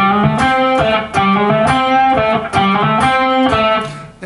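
Electric guitar playing a riff from a song, a loud, close run of driven, slightly distorted notes in a steady rhythm with brief gaps, alone without talk.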